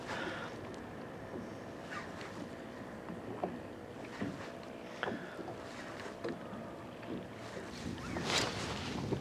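Icy winter wind blows across a river near Kyiv during autumn boat fishing for zander, a steady broadband rush with occasional gusts and faint knocks, with no speech.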